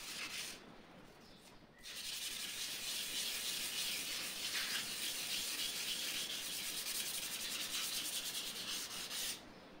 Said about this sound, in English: After the 320 grit sandpaper, I finish with 400 grit sandpaper